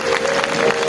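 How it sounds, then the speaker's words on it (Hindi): Brief, dense applause from a crowd at a live spiritual talk and singing event in Agra, a steady wash of many hands clapping without a break for about a second. "तालियां बजाइए।"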